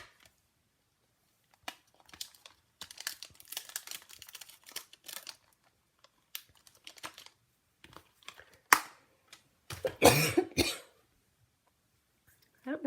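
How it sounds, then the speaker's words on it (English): A few sharp coughs and throat-clearing bursts break out near the end, following quiet scattered rustling and clicks. "I don't know why I get a cough."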